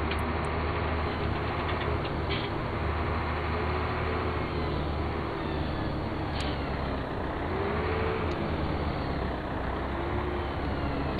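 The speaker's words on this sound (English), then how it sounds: "We're gonna have to drive our tractor into the shop." A tractor engine drives in the video game Farming Simulator 17, a steady loud low drone that holds constant with slight tonal shifts and a few faint ticks, with no talk.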